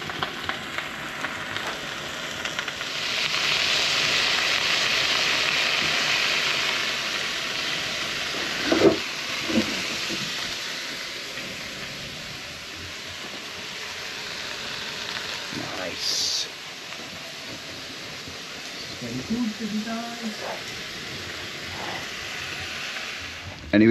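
Steak sizzling in a pan on a stand at a remote Isle of Harris bothy, a steady broadband hiss of frying that swells and eases, with occasional clinks and brief voices over it.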